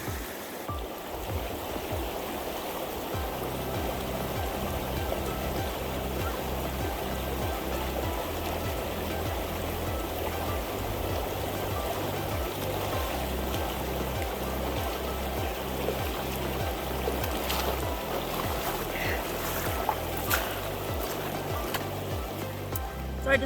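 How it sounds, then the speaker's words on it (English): A river rushes steadily beside a hiker crossing it on foot on a backpacking trail near Eagle Lake and James Lake Falls, a constant broad flowing roar with faint low thumps and no talk. "So I decided to cross the river."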